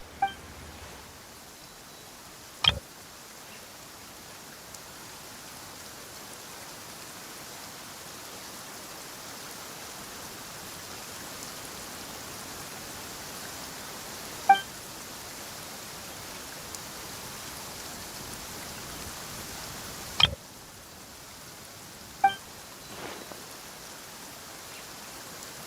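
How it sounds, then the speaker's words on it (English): Steady rain falling in the game Genshin Impact, a soft continuous wash of drops that carries on throughout, broken by a few brief sharp clicks and taps, with no one talking. "Why is it raining all of a sudden?"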